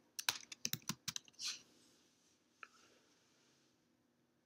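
Fingers type on a computer keyboard in a quick burst of close, crisp key clicks over the first second and a half, followed by near silence and one isolated tap.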